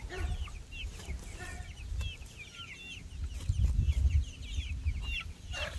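Several chickens cluck and chatter near the microphone, with soft low rustling and shuffling underneath, continuous and moderately loud.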